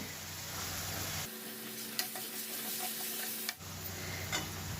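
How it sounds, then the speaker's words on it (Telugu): Salted onions fry in a pan for a Hyderabadi-style chicken curry, a steady close sizzle with light ticking stirs; the hiss drops briefly in the middle before returning, with no talking. "మనకు ఆనియన్స్ తొందరగా వేగాలంటే కొంచెం సాల్ట్ వేసుకోవాలి."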